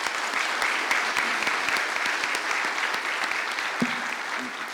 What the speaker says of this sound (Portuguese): a gente puder dar uma salva de palmas para eles